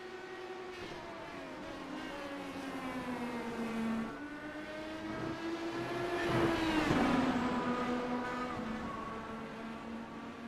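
Open-wheel IndyCar race cars in a video game league at Monza, engines droning steadily as two cars run side by side at high speed, one engine note rising and swelling loudest near the middle before easing off.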